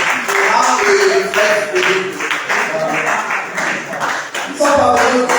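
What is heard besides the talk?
audience applauding the speakers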